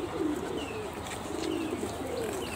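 Giribaz highflyer pigeons coo steadily at close range, low throaty rolling calls repeating over a constant background hum, with faint chirps above and no voices.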